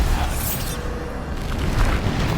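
Bombarda explosion spells fired in Hogwarts Legacy on Xbox Series X, a dense wash of booming, rumbling blasts that roll into one another with no gap, loud and close throughout.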